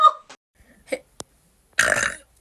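A few small throat sounds lead into one loud, drawn-out burp, close up and unvoiced by any talk.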